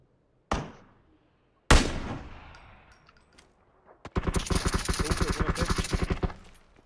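Video game gunfire: two single sharp shots, the second with a long fading tail, then a rapid automatic burst of repeated loud cracks lasting about two seconds, no talking.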